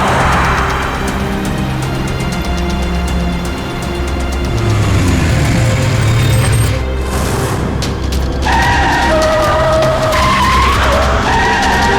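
A car skids loudly in a near-accident, with screeching tyres and a heavy engine rumble that swell through the middle of the scene before fading into a lighter squeal.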